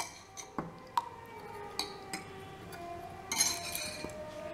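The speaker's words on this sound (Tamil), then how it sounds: "தயிரை நல்லா கடைஞ்சிக்காங்க." Curd (yogurt) is churned in a vessel, producing scattered bright clinks and taps of a utensil against the container, fairly faint and close, with no talk.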